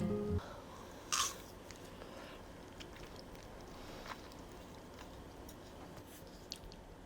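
A person bites once, crisply, into a crunchy low-sugar, low-calorie ice cream bar with a soft chewy filling, followed by quiet chewing in a hushed room.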